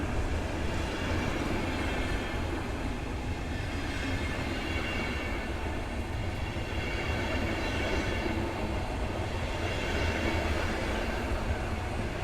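Long train with a restaurant car and second-class wagons rolling through Warszawa Wschodnia station, a steady loud rumble of wheels on rails with faint clatter, swelling and easing across the whole stretch.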